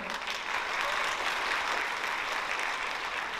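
Graduation ceremony audience applauding the graduating class, a broad, even wash of many hands clapping that holds steady and fairly loud for the whole span, with no break.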